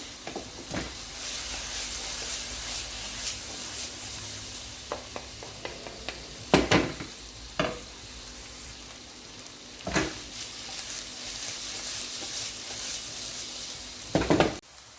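Bell peppers fry in a pan with a soft steady sizzle, broken by a few sharp scrapes and clinks as they are stirred every now and then, close and fairly quiet with no voices.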